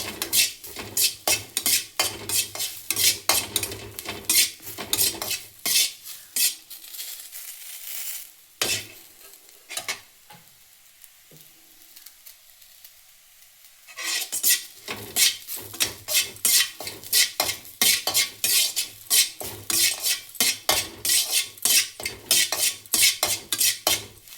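Turkey berries roasting in ghee in a pan, stirred with rapid, steady scraping and clinking of a utensil over a faint sizzle, broken by a quieter pause in the middle before the stirring resumes.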